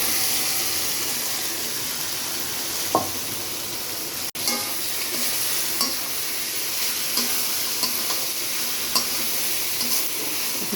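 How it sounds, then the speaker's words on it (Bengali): Eggplant and dried fish stirred into cooked-down masala, frying in a pan with a steady sizzle and repeated scraping stir strokes, with one sharp knock partway through; no talking. "এখন আমি যে বেগুন আর শুটকিটা দিয়ে দেবো"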